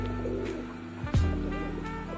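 A pigeon coos softly nearby in a short, low, throaty call heard alone, with one brief louder bump midway.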